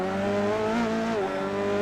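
An onboard Formula 3 race car's engine drones loud and close with steady harmonic tones, the pitch dipping as it brakes and then climbing again as it accelerates.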